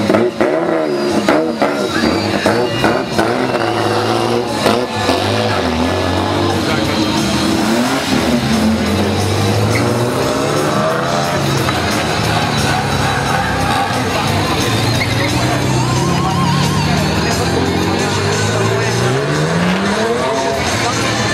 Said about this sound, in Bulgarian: Айде, че на хората им се гледа дрифт,